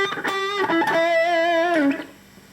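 Electric guitar through a Zoom G2 Nu multi-effects pedal on a boogie crunch drive patch, a short sustained phrase of a few notes with light distortion that rings for about two seconds and then fades.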